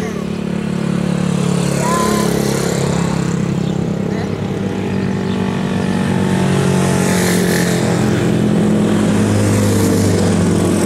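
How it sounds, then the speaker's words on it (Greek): A motorbike passes along a village street, its engine droning loudly and steadily, then swelling again as it goes by, with voices talking faintly in the background. "Κι άλλο μηχανάκι."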